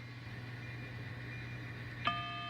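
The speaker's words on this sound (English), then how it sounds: "Heard a hopper car clicking." One sharp metallic click with a brief ringing tail from a hopper car on railroad track, fairly faint, standing out once over a steady low hum.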